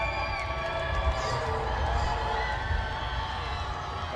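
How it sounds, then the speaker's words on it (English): A crowd at a Seattle Tempest ultimate game against The West cheers and whoops in a continuous, fairly distant wash of voices, with scattered shouts rising out of it. "as the crowd is getting hyped"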